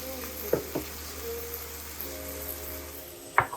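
Slider cheeseburger patties sizzle steadily in a pan, a soft, continuous hiss with a few sharp clinks and taps from utensils nearby.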